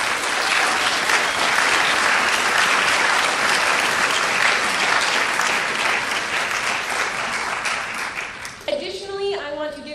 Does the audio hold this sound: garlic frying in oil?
no